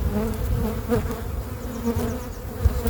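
Honey bees swarming around an open hive during inspection, a dense close buzzing hum that fluctuates as individual bees pass near.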